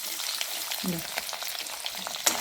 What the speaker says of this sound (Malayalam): കടുക് ഏകദേശം പൊട്ടിക്കാനുണ്ട് അപ്പോൾ നമ്മൾ തേങ്ങ കുത്തിട്ട് കൊടുക്കും